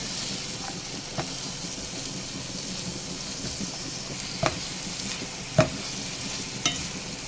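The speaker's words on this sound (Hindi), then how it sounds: "इसको हल्का सा इस मसाले के साथ फ्राई करेंगे पहले हम।" Mixed vegetables frying with masala in a pan for Maggi, a steady close sizzle with a few sharp clinks and scrapes of stirring, no talking.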